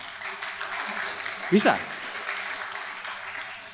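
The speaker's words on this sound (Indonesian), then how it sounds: "Tepuk tangan dulu buat mereka." Applause from a student audience at a leadership session, a broad steady clapping texture with a brief voice rising over it partway through.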